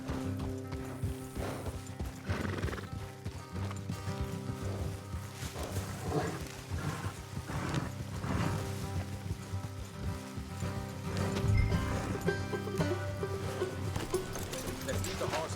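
Horse hooves in Red Dead Redemption 2 thud in a loose rhythm beneath a steady bed of music and ambience, moderately quiet and mixed with the background.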